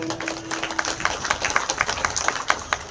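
An audience claps at a kirtan at the Balumama temple in Kej. The clapping is steady, rhythmic and fairly close, with a faint tone held underneath.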